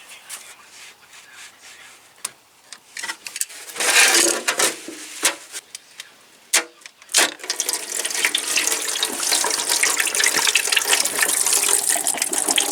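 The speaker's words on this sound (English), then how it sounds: "we'll drain the coolant out here" Engine coolant, plain water here, drains out of a Volkswagen coolant pipe, starting as scattered trickles and splashes before becoming a steady, loud rushing pour in the second half.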